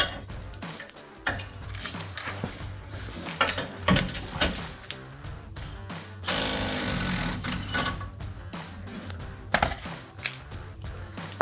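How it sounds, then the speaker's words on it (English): A 1/2-inch impact wrench with a swivel and 21mm socket rattles in repeated loud bursts on a rear shock absorber bolt of a 2009-2018 Ram 1500, with background music underneath. "For the bottom, we're going to use a 21mm wrench and 1/2 inch impact with a swivel and 21mm socket."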